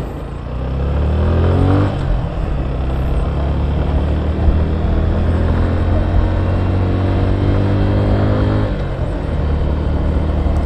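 A Suzuki Gixxer 150 Fi motorcycle pulls away and accelerates, its engine rising in pitch through the gears with a brief dip at a shift, loud and close throughout.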